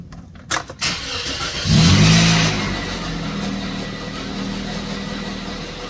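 A Pontiac Vibe engine cranks and catches close by, with a short starter whir and then a quick rev that settles into a steady idle rumble. A few clicks come just before the start.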